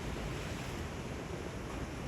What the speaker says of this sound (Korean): 파도 봐봐